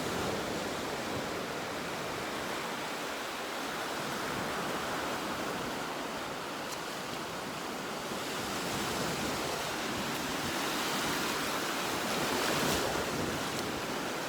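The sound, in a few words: ocean waves on beach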